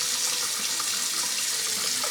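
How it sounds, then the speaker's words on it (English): Tap water runs steadily over a branch of fresh rosemary in a kitchen sink, a continuous close hiss and splash with no talking. "I rinse the branch of rosemary and pat it dry"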